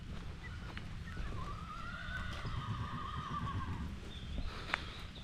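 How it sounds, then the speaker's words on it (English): A horse whinnies at a distance on a ranch near a hiking preserve, a long wavering neigh rising and falling for a few seconds over low outdoor rumble, followed by a shorter call. "And there's a horse over there."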